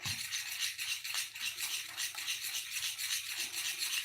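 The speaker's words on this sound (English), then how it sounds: "So I'm just stirring it up, making sure it is warm." A spoon stirs warm condensed milk in a pot, giving a soft, rhythmic scraping that repeats steadily about twice a second, quiet and close, with no one speaking.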